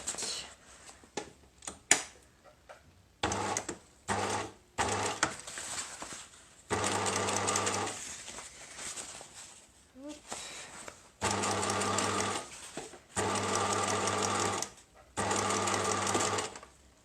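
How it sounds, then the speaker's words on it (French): Sewing machine stitching fabric for a bicycle frame bag, running in repeated bursts of steady rapid whirring separated by short pauses, close and fairly quiet. "je peux venir finir la couture que j'étais en train de faire"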